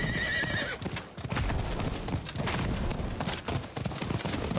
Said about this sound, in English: let's just stay with the horse what we have right now